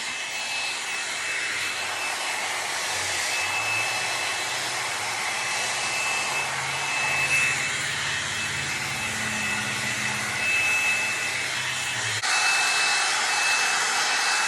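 A L'ange LeVolume hair dryer blows steadily and loudly throughout, a continuous whooshing roar with a slight shift in tone near the end.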